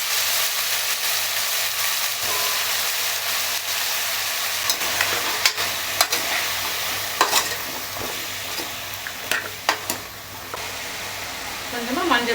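Vegetables for sambar sauté in a hot pan, giving a steady sizzle while a spoon scrapes and stirs now and then, close and fairly loud.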